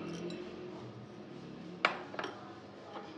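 Boiled Maggi noodles are mixed in a bowl, a quiet kitchen scene with a few bright spoon clinks against the dish, one sharp knock followed by lighter taps.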